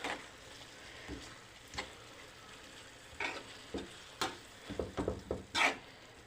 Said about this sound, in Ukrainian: гарно розмішуємо, щоб спеції всі розподілилися